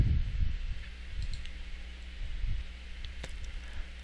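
A few quiet mouse clicks, including one distinct crisp click near the end, sound out while working in SheetCam CNC plasma software, set against a steady low room hum.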